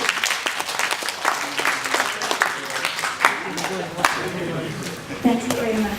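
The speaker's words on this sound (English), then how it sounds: "And another round of applause." A conference audience applauds its speakers and moderators with a moderate round of clapping, individual claps standing out irregularly, while a voice talks over it toward the end.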